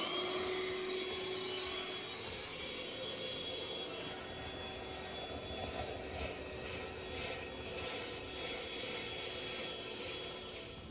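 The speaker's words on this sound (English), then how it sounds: "I'm gonna suck all of that nastiness out with a shop vac" Shop vac vacuuming out the range hood of a 1960s kitchen, a steady loud whining motor drone with airy rushing suction that barely changes over the whole stretch.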